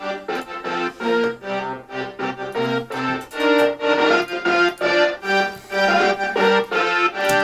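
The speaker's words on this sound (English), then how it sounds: "Now the brass low," Low brass part from a studio music production, treated with saturation, reverb, EQ and compression, playing a sustained, rhythmic line of held notes alone with no talk.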